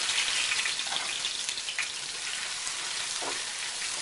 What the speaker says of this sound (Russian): И пассирую на сковороде на подсолнечном масле.